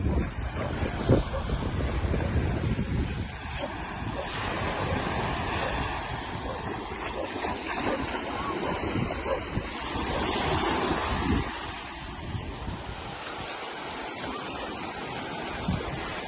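Sea waves wash and roll continuously onto a beach on the English coast, with a steady rush of surf and gusts of wind buffeting the microphone.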